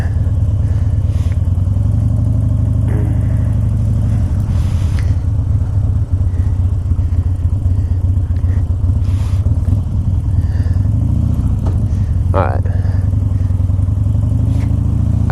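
A Harley-Davidson Dyna motorcycle with 7,400 miles runs loud and close for the whole stretch, a continuous low rumbling idle with faint clatter and a few light knocks, set out for a ride in the snow, with no voices.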